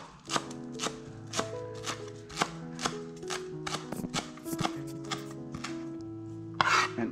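A knife chops cheesecake ingredients into small pieces on a board, sharp evenly spaced strikes about two per second, close and distinct, with faint background tones between cuts.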